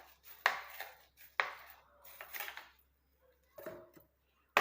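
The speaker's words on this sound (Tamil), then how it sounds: "இந்த வாழைப்பூவை சின்ன பீஸாக வந்து குட்டி பீஸாக வந்து கட் பண்ணி போட்டுக்கோங்க." Banana flower being chopped into small pieces with a knife on a board, a few close, crisp bursts of quick cuts separated by pauses.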